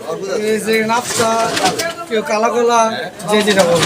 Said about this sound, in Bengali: এদিকে দেখতেছেন সুন্দর এক জোড়া কবুতর